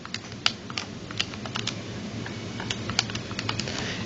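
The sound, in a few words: typing numbers into a calculator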